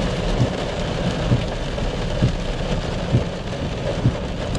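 Heavy rain drums steadily on a 2018 BMW F30 316d driving through city streets and motorway, a dense continuous hiss with low road rumble and occasional soft thumps underneath, no voices.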